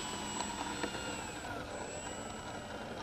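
A Carbon Z Yak 54 RC model airplane motor whines at throttle on its maiden flight in foggy conditions, a faint, steady high-pitched electric drone heard from a distance over outdoor background noise.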